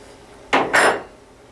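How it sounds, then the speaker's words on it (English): Pliers squeeze a motorcycle spark plug cap terminal in a garage, giving two quick, close metallic clicks in succession, then quiet. "just taking whatever pliers you have around the garage and kind of squeeze it together"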